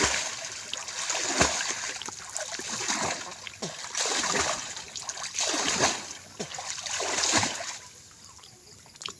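Someone swimming in a pond makes repeated close splashes and churning water strokes in an uneven rhythm, with faint voices underneath.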